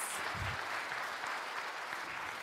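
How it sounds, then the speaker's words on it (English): An audience at Davao City's State of the City Address gives a brief, steady round of applause for the department heads, a dense wash of clapping heard from within the hall. "Please take time out to give a round of applause"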